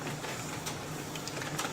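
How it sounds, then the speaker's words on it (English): A home printer running with a steady mechanical whir and faint intermittent clicks, even and continuous throughout. "My printer just started going and it's distracting me."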